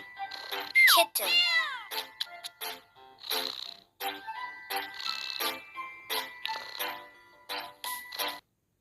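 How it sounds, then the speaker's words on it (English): A kitten meows several times, with high, bending mews and short chirps in an irregular run over a light, tinkly background tune. "Kitten."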